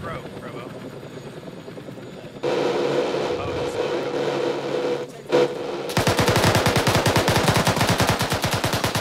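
ArmA 3 gunfire in a large-scale battle: scattered shots and a burst give way to loud, sustained rapid automatic fire, with people talking underneath.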